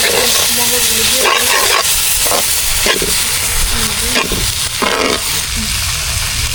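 Beef brain frying in oil in an outdoor village kitchen at night, stirred with a spatula: a steady loud sizzle fills the whole stretch, broken by several scraping stirs against the pan.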